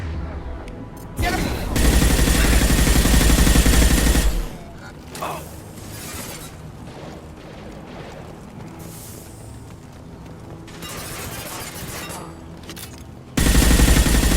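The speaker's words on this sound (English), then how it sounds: "Firing a high-impact shot!" Sustained automatic gunfire bursts loudly in Mass Effect 2, with heavy fusillades at the start and end framing quieter combat noise, shots and a voice in between.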